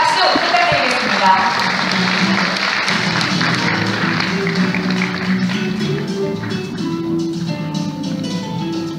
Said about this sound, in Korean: 무대로 모시겠습니다. 여러분 박수 부탁드리겠습니다.